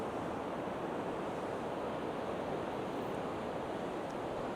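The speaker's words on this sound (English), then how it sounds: "I'm just going to leave the surf noise on" Sea surf rolls steadily onto the beach at Sutton on Sea, a constant broad wash of breaking waves with some wind noise and no talk.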